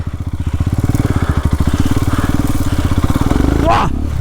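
An off-road motorcycle fitted with a 40-tooth sprocket putters close up in a fast, pulsing beat, then revs up sharply near the end, loud and dominant.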